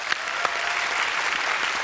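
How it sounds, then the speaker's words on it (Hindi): Studio audience applause for Raveena Tandon at a TV comedy show, a dense, steady burst of clapping from a large crowd. "रवीना के लिए पहले जोरदार तालियां होने"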